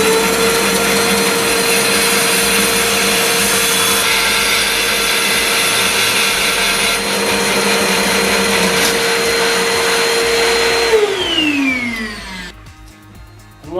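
A SIP Professional 14-inch bandsaw runs with a loud, steady whine while making a mitred cut, then spins down near the end as its pitch slides lower and the noise fades.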